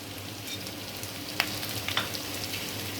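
Capsicum and green chillies sizzle in a pan of chilli paneer sauce, a steady soft frying hiss with a couple of faint utensil clinks, quiet and close, no voices.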